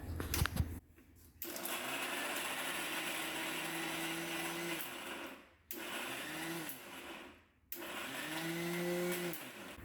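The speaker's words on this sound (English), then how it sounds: "We'll pulse it a little bit." An electric kitchen blender grinds channa chutney in loud, steady whirring runs, cut by brief pauses where it is pulsed on and off, with the motor pitch dipping and rising again.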